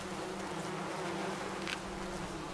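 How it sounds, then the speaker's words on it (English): A dense, steady buzzing of many bees swarming close by in the video game White Night, continuous throughout with no voices. "They sound like bees."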